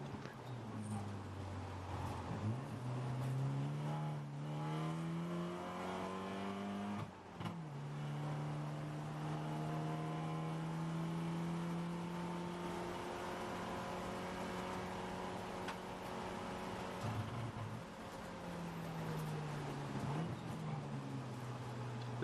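Race cars on the track during an eight-hour endurance race at Thunderhill, including a BMW leaving the pits; a continuous engine note rises and falls in pitch with a brief break partway, heard at a moderate distance.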